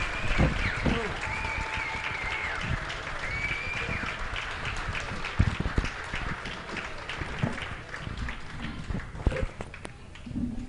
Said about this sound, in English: Let's give one last round of applause for all of our seniors